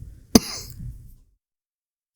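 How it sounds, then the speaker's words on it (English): A single sharp cough, close to the microphone, followed by a short rasp and then silence, with a brief bump at the very end. "For a second, when you were coughing,"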